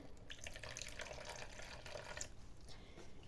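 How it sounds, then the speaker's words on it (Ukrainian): Boiled water poured from a kettle into a salad dressing for courgette rolls, a faint, close trickling and splashing stream that runs continuously with small drips, alone without talk. "і додамо трішки води. Вода в мене з чайника перекип'ячена"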